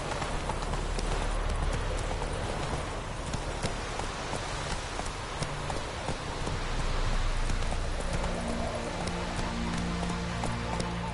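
Roach, a horse in The Witcher 3, gallops with a steady, rhythmic clip-clop of hooves over a constant hiss of falling rain, with faint talk underneath.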